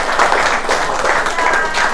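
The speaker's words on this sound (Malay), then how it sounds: "Sekali lagi tepukan untuk isteri saya, Puan Asmadi binti Hassan." Audience applause for a speaker's wife at a healthcare product testimonial event, a steady dense wash of many hands clapping throughout, fairly loud and continuous.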